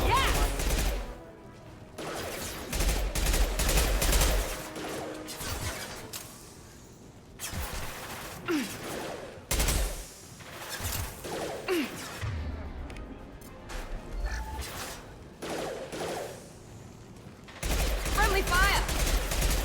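Bursts of automatic gunfire and crashes from combat in Mass Effect 2 Legendary Edition, coming in repeated dense volleys with brief lulls between them across most of the stretch.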